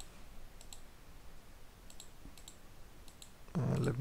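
A computer mouse clicks a start button in the Unity editor, a few faint, sharp clicks spaced apart in a quiet room, followed by a louder burst of sound at the end.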